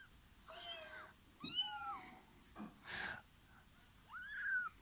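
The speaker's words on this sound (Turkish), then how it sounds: "Miyavlıyorlar sürekli." Newborn kittens, cold and shivering, give a few thin, high meows one after another, close and fairly soft, with quiet gaps between cries and no talking.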